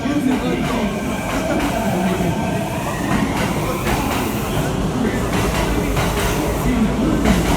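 A Kintetsu Hinotori limited express train at Osaka Namba station, a steady loud rail rumble with faint wheel screech and clatter, while a station announcement plays over the noise.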